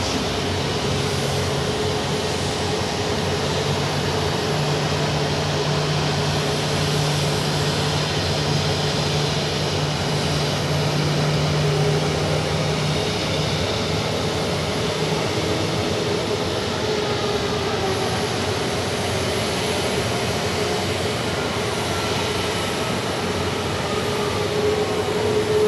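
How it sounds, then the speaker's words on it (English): Turkish Airlines Airbus A330 departing Zurich for Istanbul, heard as a continuous broad jet engine roar that stays steady and loud throughout, with no pauses. "So the Turkish you were looking at is departing for Istanbul. Turkish A330"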